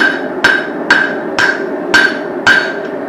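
A hammer rings on hot metal while forging the face of a hammer head, six loud, evenly spaced metallic blows about half a second apart, close and with no talking.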